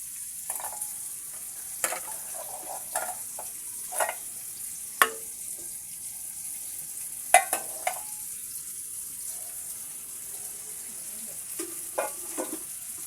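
Steamed raw plantain goes into hot oil in a wok, giving a soft sizzle with scattered sharp crackles and spatula scrapes spaced a second or two apart, fairly quiet and without talk.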